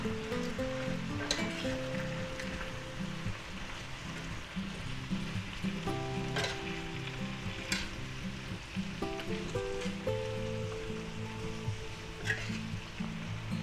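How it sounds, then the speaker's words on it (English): Marinated beef for pepper steak sizzles in a pan while being stirred, with a constant frying crackle broken by scraping and clinks of a utensil against the pan. No one speaks. "we're going to take our nice marinated beef that we have here, and we're going to put that right in there"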